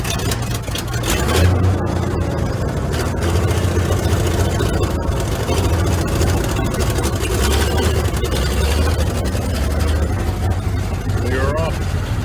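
The engine of a DewEze Hay Monster truck, revived after 44 years, rumbles steadily as it drives along a country road, a loud, continuous low drone with rattling, and a person talks over it.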